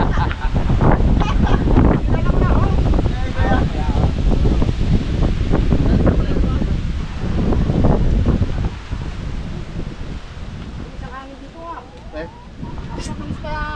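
Strong wind buffets an outdoor microphone in steady, loud gusts that ease slightly toward the end, with geese honking and people talking through it.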